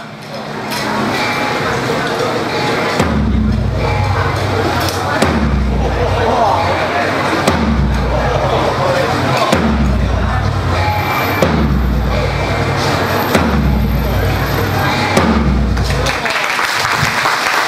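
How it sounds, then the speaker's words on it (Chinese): A war drum, struck in place of a gong at a banquet ceremony, booms seven times in slow, evenly spaced, deep hits over steady crowd applause. "我们以战鼓来代表鸣锣，就开始打七下"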